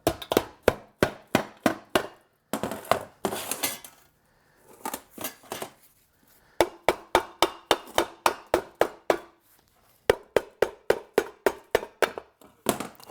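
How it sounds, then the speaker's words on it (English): A hammer pounds on the sump cover of a Briggs & Stratton engine during a teardown, loud sharp metallic blows in quick bursts of several strikes, separated by short pauses. "I do recommend using a brass hammer or a rubber mallet to remove the sump cover"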